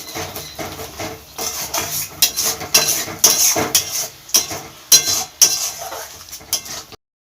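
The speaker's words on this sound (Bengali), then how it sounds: "দইটা এবার ভালোভাবে মশলার সঙ্গে মিশিয়ে নিতে হবে" A utensil stirs yogurt into spices in a metal pan while cooking a Bengali-style katla fish curry, giving repeated clinks and scrapes in an irregular rhythm, close and fairly loud, with no talk.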